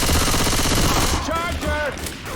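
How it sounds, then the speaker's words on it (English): Rapid machine gun fire in the co-op zombie shooter Left 4 Dead 2, a loud continuous rattle of shots filling the moment, with a game voice briefly audible near the end. "I guess I'll take this here machine gun."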